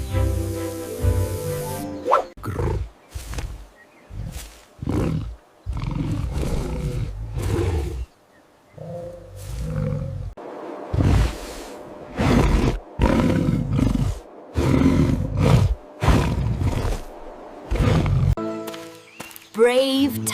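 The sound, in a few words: tiger roaring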